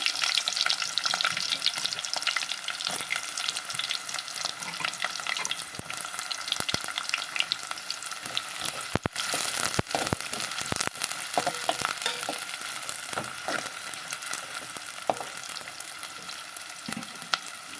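Onions frying in hot oil with cinnamon bark for an egg shorba curry, a steady broadband sizzle running throughout with occasional stirring clicks and scrapes.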